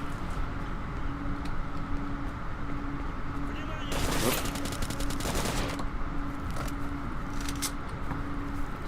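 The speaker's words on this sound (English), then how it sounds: "Didn't realise there'd be people shooting at me down here after I cleared it out." Gunfire in the video game STALKER targets the player: a sustained burst of rapid shots stands out briefly over a steady background rumble and some talk.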